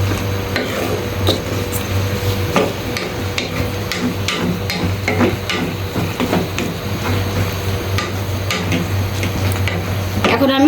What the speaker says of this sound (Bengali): এখন আমি এটাকে খুব ভালো করে নেড়ে নিচ্ছি।